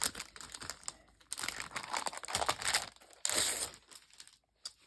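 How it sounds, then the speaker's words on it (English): Plastic packaging crinkles and crackles close by in bursts of handling, loud crisp rustles separated by brief pauses, with no talking. "I'm sorry for the sound of the plastic here"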